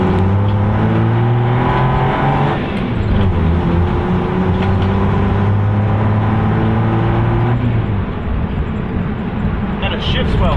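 Toyota Land Cruiser fitted with a bull bar, its engine droning steadily close by while driving, with pitch shifts as gears change and a person talking over it throughout.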